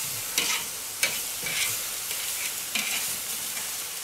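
Pork neck steaks sizzle and crackle on a hot grill, a steady frying hiss broken by several sharp pops and scraping bursts as the meat is moved toward the hottest zone.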